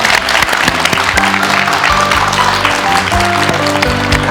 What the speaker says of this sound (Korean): 오늘 박수 주십시오.